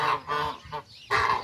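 A goose honks loudly and nearby on a rural yard, giving three or four harsh, nasal calls in quick succession with a short pause before the last, with no speech.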